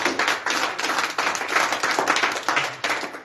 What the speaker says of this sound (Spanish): Entonces, dale un aplauso al Señor.